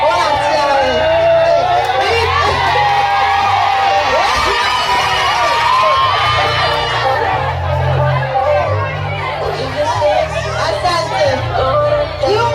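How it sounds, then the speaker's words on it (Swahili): A wedding crowd cheers, claps and ululates in loud, high trilling waves, with shouting and lively chatter mixed throughout and music pulsing underneath. "makofi na vigelegele"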